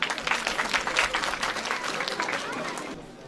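An audience at a school's LKG annual day claps loudly and continuously for the principal director. The applause is close and dense, holds steady for about three seconds, and some crowd murmur sits underneath it.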